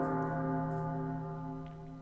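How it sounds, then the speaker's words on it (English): An early dinner bell rings in the Hero-U video game, a steady sustained metallic bell tone with rich overtones that slowly fades, heard alone. "that's the early dinner bell"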